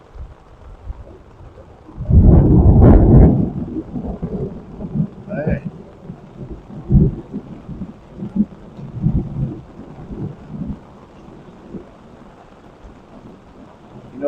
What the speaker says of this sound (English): That is a powerful storm.